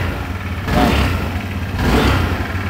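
A motorbike engine running close by with a steady rumble, revved up twice in broad surges before easing back toward idle.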